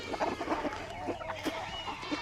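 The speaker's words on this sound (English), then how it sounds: "Come on, roosters." Roosters clucking on a country farm during summer, a steady run of close, overlapping clucks and low calls over outdoor background noise.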